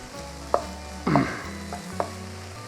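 A spoon stirs chopped green chilli, carrot, beans and capsicum in a pan for egg vegetable pasta, with a few distinct scraping strokes over a faint sizzle and a steady low hum.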